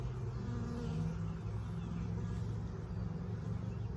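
Honeybees buzz thickly and steadily around an open hive during hands-on beekeeping, a dense, close, continuous drone with no talking over it.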